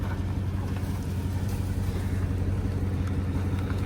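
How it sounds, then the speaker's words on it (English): A steady, loud, low exhaust rumble from an off-road vehicle, a Jeep Wrangler or INEOS Grenadier on an off-road trail, drones continuously with no voices. "It's just the exhaust."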